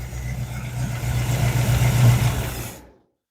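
An old engine that sat unused for years idles roughly with a low, steady rumble and slight unevenness, swelling a little before it is shut off and cuts to silence near the end.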